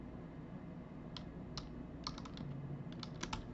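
Keys on a computer keyboard click sparsely and softly over a steady background hiss, with irregular taps and a short quick cluster near the end.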